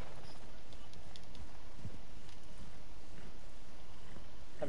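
Horse hooves clip-clop steadily in the video game Red Dead Redemption Online, a faint even beat set under a constant wash of game ambience.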